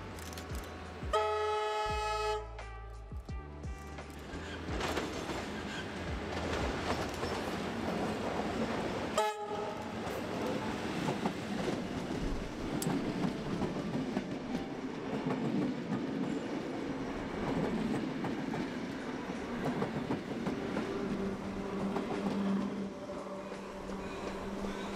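Vintage Red Rattler electric train carriage on a showground ride, with a couple of short horn toots near the start, then steady rumbling and clattering wheels throughout.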